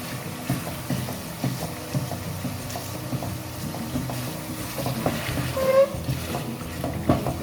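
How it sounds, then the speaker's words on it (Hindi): Mutton karahi with spices and tomatoes is being stir-fried in a pan, giving a steady close sizzle broken by repeated scraping and clattering stirs throughout. "तो हमें इसकी भुनाई करनी है और इसका असल काम इसकी भुनाई ही है"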